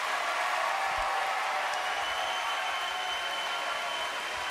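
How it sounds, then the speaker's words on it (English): Sustained audience applause fills a hall at the Georgia Tech InVenture Prize 2012 competition as the finalist teams return to the stage, a dense, steady wash of clapping that holds at an even level throughout with no voices over it. "Ladies and gentlemen, another round of applause."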